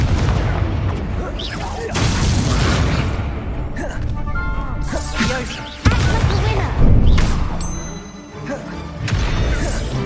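Confringo blasting-spell explosions in Hogwarts Legacy, loud booming bursts with crackling debris and a sharp crash partway through, mixed densely with a person talking and game music.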